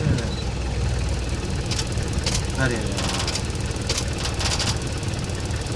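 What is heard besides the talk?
jeep engine idling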